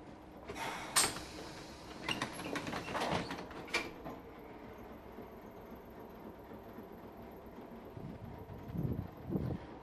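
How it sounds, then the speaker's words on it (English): Pneumatic hiss and mechanical clunks of a sliding train door opening near the start, followed by a low rumbling hum and a few later thuds. "I'm going to open the door using the button on the console"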